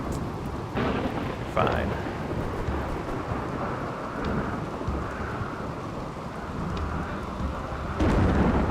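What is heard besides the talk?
rain and thunder in the video game RimWorld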